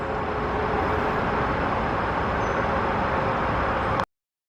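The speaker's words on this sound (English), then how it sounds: "And you can hear the cars." Steady roar of cars on a busy four-lane road near a trail, a continuous wash of traffic noise with no voices, ending abruptly.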